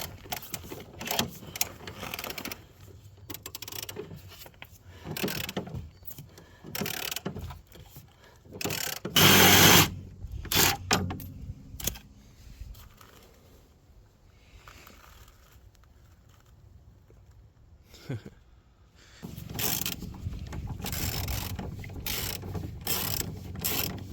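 Hand ratchet wrench turning a bolt during rust repair on a SAAB 9-5, a run of close mechanical clicks and clattering tool handling with one loud burst near the middle and a steady ratcheting stretch at the end, no talk.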